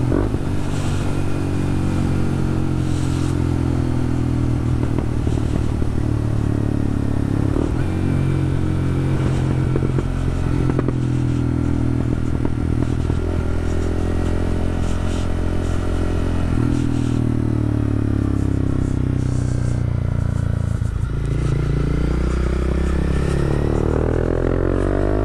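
A Honda CB300F motorcycle runs steadily close by, its engine and exhaust producing a loud continuous smooth drone with gentle rises and falls in revs throughout.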